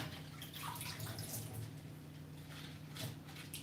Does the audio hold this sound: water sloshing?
yes